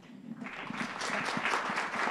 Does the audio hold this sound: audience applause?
yes